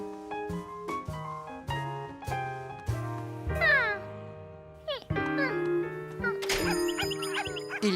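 A cartoon cat meows several times in a row, clear and close, with plucky tonal music and bright chimes playing underneath throughout.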